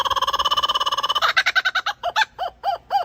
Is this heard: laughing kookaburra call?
yes